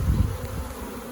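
Buzzing of a honey bee swarm caught in a backyard, a steady low drone that holds through the whole second, loud and close with no voices.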